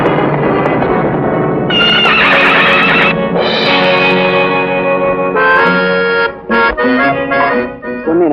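A horse neighs loudly in a long run of shrill, wavering whinnies, close and dominant, with breaks near the end and a faint thud of hooves.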